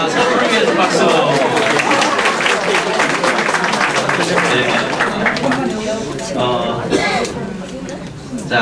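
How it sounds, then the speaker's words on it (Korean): Coaching lecture audience applauding one another: dense, steady clapping from a sizable room of people fills the whole stretch, with crowd chatter and voices mixed under it, tapering slightly near the end. "서로를 위해서 박수"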